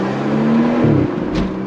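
A BMW 435i M-Sport fitted with an Akrapovic exhaust, loud and close, its engine note rising and shifting in a quick rev with a sharp burst near the end, no talking.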